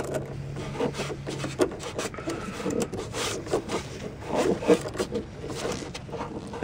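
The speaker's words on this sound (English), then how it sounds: "I've got a wrench for battery terminals that makes it a little easier to do" A 5/16 battery-terminal wrench works at an old car battery terminal, producing close, uneven scraping, rubbing and clicking of metal, with small knocks scattered through the stretch and no clear speech.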